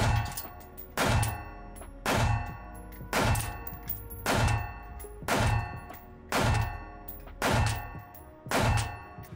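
Roughly nine evenly spaced gunshots striking a steel armor plate in a plate carrier, each a sharp crack with a heavy thump and metallic ring that fades before the next.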